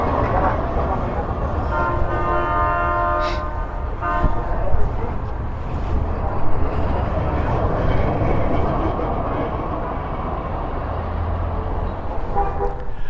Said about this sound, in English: we waited for our tram to come along